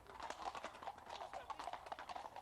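Hunt horses' hooves clip-clop in a steady uneven rhythm as grooms ride out in the English countryside, the hoofbeats close and continuous throughout.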